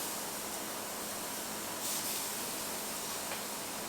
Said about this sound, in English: And I can hear it sizzling already.